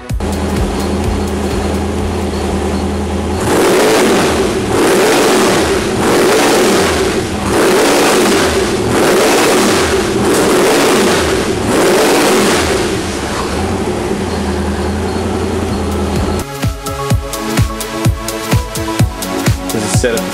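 A twin-turbo Ford 428 small block built for an early Mustang revs loudly close by, cycling through about six surging roars before settling to a choppy, lumpy idle.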